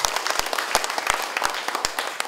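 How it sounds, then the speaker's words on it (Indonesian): Applause from a crowd at a political declaration event for Prabowo-Hatta volunteers, with loud sharp individual claps standing out over a softer spread of clapping. "Tepuk tangan dulu untuk kita semua."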